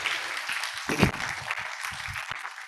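Brief audience applause at a university summit hall in Lahore, moderately loud scattered clapping over a few seconds with one sharper burst near the middle.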